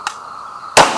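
An AKM-type rifle chambered in 7.62x39 fires 122 grain standard ammo: a faint pop, then one sharp, loud crack near the end that rings off, with no voices.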